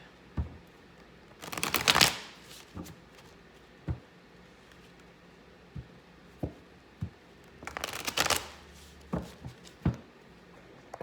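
Tarot cards are shuffled in two brisk riffling bursts, with scattered soft taps and card handling sounds between them, close by and without talk.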